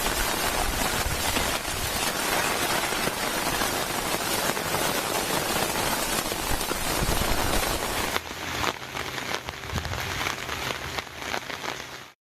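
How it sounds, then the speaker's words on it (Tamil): Heavy rain falls over the Delta districts of Tamil Nadu as a dense, steady hiss that stays loud throughout and eases slightly near the end, with no voices. "டெல்டா மாவட்டங்களின் பல்வேறு பகுதிகளில் பரவலாக மழை பெய்து வருகிறது"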